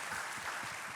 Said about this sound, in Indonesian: Yang setuju berikan tepuk tangan, berikan tepuk tangan